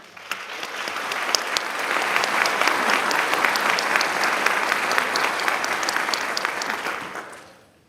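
A ceremony audience applauds incoming pharmacy students at a white coat ceremony at the Bill Gatton College of Pharmacy; dense clapping swells up, holds strong and full, then fades away at the end.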